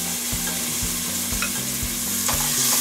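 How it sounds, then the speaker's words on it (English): Tomato paste and ground beef fry in hot oil in a pot, giving a close, steady sizzle with a low rhythmic hum and occasional stirring scrapes, no voices. "my tomato paste is frying right now"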